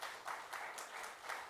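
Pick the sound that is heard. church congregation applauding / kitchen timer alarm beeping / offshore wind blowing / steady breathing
church congregation applauding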